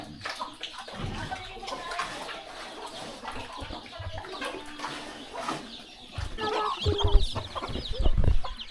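Chickens and chicks cluck and peep in a farmyard, close and irregular, with a rooster-like call and scattered rustling and splashing sounds throughout.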